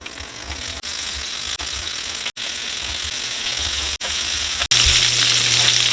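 Meatballs sizzle and fry in a hot pan, a steady close hiss of spitting fat with brief dropouts and a louder surge near the end, no voices.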